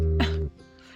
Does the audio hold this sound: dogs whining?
yes